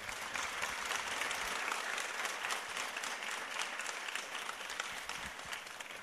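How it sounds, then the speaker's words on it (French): Continuous audience applause at a public speech event in Bazainville, France, attended by Emmanuel Macron, a dense, even wash of many hands clapping for several seconds, heard from some distance with no talking. "j'aimerais qu'on vous applaudisse"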